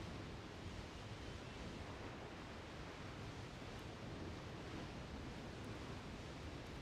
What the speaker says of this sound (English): It's my background. It's a little waterfall.